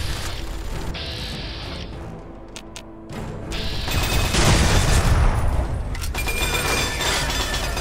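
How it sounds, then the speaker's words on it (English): Gunfire in Fallout 3, with loud, dense shots and blasts rolling in over a cluttered game soundscape, quieter briefly in the middle before a heavier, booming stretch of firing. "Why are you guys shooting at her?"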